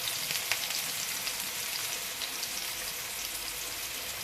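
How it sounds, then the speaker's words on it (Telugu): Prepared masala for chicken curry fries in a pan, giving a soft, even sizzle with faint crackles throughout, fairly quiet and close, with no talking. "అదే వేసుకొని ఫ్రై చేసుకోవాలి"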